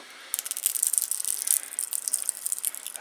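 Paint cracks and flakes off thin metal bent in a homemade metal bending tool, a dense crackling and ticking rattle with a few sharp clicks. The sound is close and continuous throughout.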